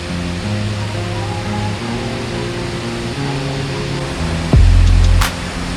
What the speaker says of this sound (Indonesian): Ini air terjun itu ketinggiannya sekitar 25 sampai 30 meter